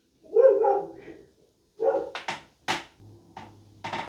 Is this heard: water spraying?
no